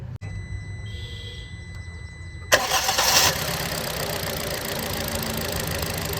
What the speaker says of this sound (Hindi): तो गाड़ी को मैं स्टार्ट कर लिया हूँ।